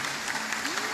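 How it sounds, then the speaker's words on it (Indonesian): A brief burst of audience applause at an Islamic religious lecture before gathered clerics and attendees: dense, steady clapping for about a second. "Ya, tepuk tangan buat beliau."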